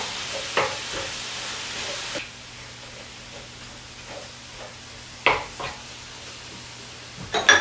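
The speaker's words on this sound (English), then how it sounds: "We start with 1 pound of hamburger and we fry it up." Hamburger meat frying in a pan for taco soup gives a steady, soft sizzle with several sharp scraping or stirring clatters scattered through it. No one speaks.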